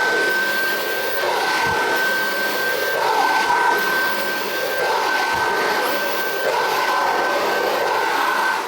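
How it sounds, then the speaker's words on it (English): A vacuum cleaner works over a car floor mat in one direction, a steady close roar with a thin high whistle running through and rhythmic swishes and bumps as the nozzle is pushed along. "Typically what I do here is I would vacuum all in one direction."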